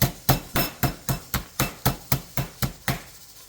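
A steady run of about a dozen meat-mallet blows as chicken breasts are flattened for schnitzel in a home kitchen, evenly paced and close, each thud sharp and loud with no talking over it.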